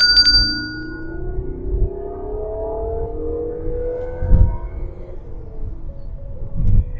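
A synthetic engine note from a 2019 Lexus NX300 F Sport plays through the cabin speakers, a smooth tone that climbs steadily as if revving, with soft low thumps underneath.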